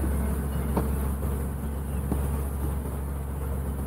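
Honeybees buzzing around a hive's bottom board, a steady close droning hum with an occasional louder pass, and no talking.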